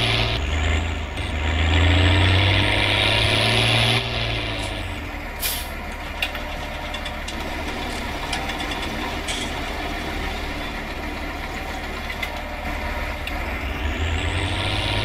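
A tractor engine in Farming Simulator 19 drones steadily and close, with a heavy low rumble that rises briefly then settles into an even idle-like hum, with faint clicks and hisses over it.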